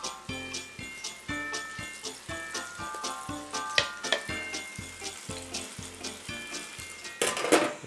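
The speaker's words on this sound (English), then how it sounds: "Scoop it up, drop it in the oil." Apple cinnamon oliebollen dough fries in hot oil with a steady sizzle, overlaid by regular rhythmic tapping or ticking and a louder crackling burst near the end.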